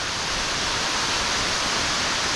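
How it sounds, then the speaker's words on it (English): A tiered waterfall cascading down several layers on a hiking trail, heard as a steady, dense rushing roar with no breaks and no voices. "Different perspective here of our different layers, our tiers of this waterfall that will go all the way up there."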